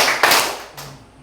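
Two loud group hand claps ring out in a classroom, the first burst strong and smeared by many hands, the second weaker and quickly decaying.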